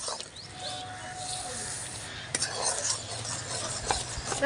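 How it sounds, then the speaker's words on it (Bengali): Sesame seeds being stirred into thick, sticky cooked jaggery in a pan: soft, quiet scraping and shuffling with a few light utensil clicks against the pot. "দুই মিনিট নাড়াচাড়া করে নামিয়ে দেবো"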